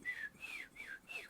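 A person whistles an imitation of a saltator grosbeak's song: four clear, sliding, fluting phrases in quick succession, fairly faint, with a quiet background murmur.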